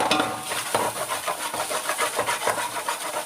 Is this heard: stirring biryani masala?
yes